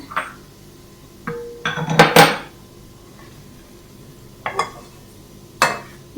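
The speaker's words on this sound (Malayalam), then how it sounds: "നമുക്കൊരു ബൗളിലേക്ക് കോരി മാറ്റാം" Fried brown onions are scooped out of hot oil into a bowl, with a faint sizzle under scattered metal clinks and scraping of a spoon against the pan, loudest in a cluster midway.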